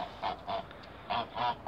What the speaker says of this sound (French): Des oies, des canards de Barbarie,